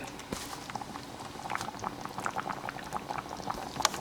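Contents of a Curtis Stone 2-quart multi-cooker bubble steadily at a rolling boil, a dense close patter of small pops with no talking over it.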